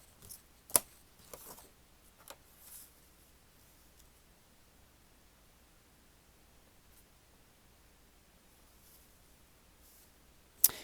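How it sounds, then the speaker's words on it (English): Scissors snip through magazine pages in a quiet room, a few faint, crisp cuts near the start, a long pause, then one more snip at the end. "I'm thinking that now I want to cut up my magazines."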